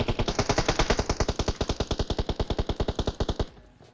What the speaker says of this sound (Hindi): और इधर गोलियां भी चल रही है